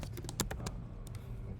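Typing JavaScript code on a computer keyboard: a quick cluster of close keystrokes, a short pause, then a few more taps.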